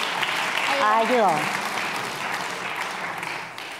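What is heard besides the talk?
audience applause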